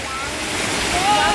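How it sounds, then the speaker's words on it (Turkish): Water rushes continuously from a fountain or small waterfall in a historic outdoor setting, a steady broadband spray close by with a brief faint tone near the end. "Şelale diyorum yani, fiskiye."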